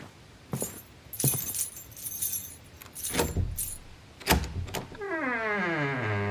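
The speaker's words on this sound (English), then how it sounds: "I unlocked the door and entered." A set of house keys jangling in quick metallic bursts as a door is unlocked, followed by a steady rising mechanical whir at the end.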